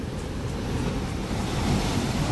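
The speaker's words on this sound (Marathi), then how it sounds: "त्या साईडला जो दगड आहे त्याला काय मस्त आदलते लाट." Sea waves crash against rocks at high tide on the Malvan coast of Konkan. A steady, dense roar of surf fills the whole stretch, mixed with wind buffeting the microphone and no voices.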